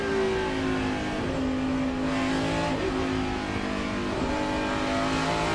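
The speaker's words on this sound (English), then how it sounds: "we can listen to the engine in these guys that have plenty of fuel, make it to the end" A NASCAR stock car engine roars continuously at a road-course race, its pitch sweeping up under acceleration and dropping at several quick gear shifts, loud and close throughout.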